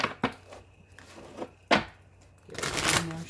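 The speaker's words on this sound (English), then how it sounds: "Get some more shuffles on this." A deck of cards is shuffled close by in a quiet room, with sharp riffling bursts and soft slaps and ruffles building into a longer, louder riffle at the end.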